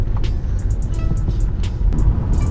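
A car driving up a road, a close engine rumble and tire noise rolling along steadily with small clicks and rattles on top.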